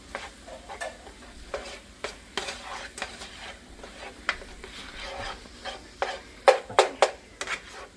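Fried rice is stirred in a hot pan, with soft scraping and sizzling under a run of irregular utensil scrapes and clinks that grow sharper and louder toward the end, close and alone.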